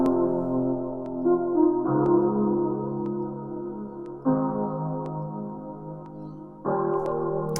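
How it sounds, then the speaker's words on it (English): Piano chords run through a flanger effect for a retro synthwave feel, a sustained harmonic pad that shifts to new chords about every two seconds, with no voices. "I add a flanger to the piano to make it sound a lot more retro and a bit more"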